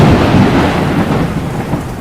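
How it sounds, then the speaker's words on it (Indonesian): Heavy rain pours during a thunderstorm while a deep thunder rumble rolls underneath, loud, close and steady across the whole stretch, with no voices. "Air hujan telah membasahi sekujur tubuhnya. Saat dia mencapai tanah, petir menyambar pohon di dekatnya."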